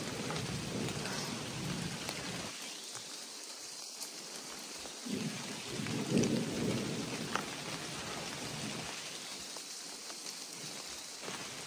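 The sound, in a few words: thunder and rain outdoors in the mountains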